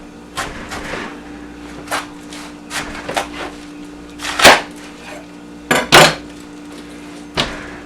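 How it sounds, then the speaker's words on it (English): A knife cuts down through the middle of a whole cabbage head in a series of separate crunching, knocking strokes on a board, with two louder thuds near the end. "But so we're going to cut this thing"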